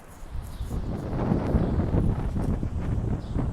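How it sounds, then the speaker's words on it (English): Steady wind buffeting the microphone, a broad low rumbling roar that holds throughout with slight gusting swells. "Enjoy these winds."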